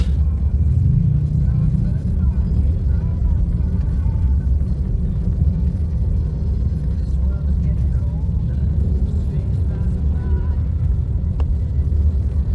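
A car stuck in a traffic jam gives off a steady, low engine and road rumble that runs throughout, with people chatting casually over it.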